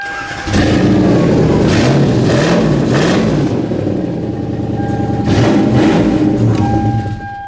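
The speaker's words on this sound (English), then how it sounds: "So it's got some shitty exhaust on it." A car engine idles and revs with a loud, rough, rumbling exhaust, close by and continuous throughout.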